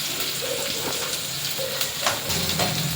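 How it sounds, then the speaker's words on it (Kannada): Chili and ginger-garlic paste sizzle and crackle steadily in a hot oiled pan, with occasional stirring scrapes, close and even throughout. "ಶುಂಠಿ ಬೆಳ್ಳುಳ್ಳಿ ಪೇಸ್ಟು 1-2 ನಿಮಿಷ ಮಾತ್ರ ಫ್ರೈ ಮಾಡ್ಕೊಂಡು ಸಾಕು"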